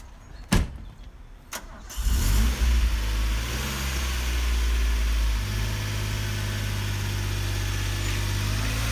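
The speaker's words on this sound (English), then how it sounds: "hop in this 1981 DeLorean" A 1981 DeLorean fires up after two sharp clicks, its engine catching with a brief rev and then settling into a steady, close idle hum that continues to the end.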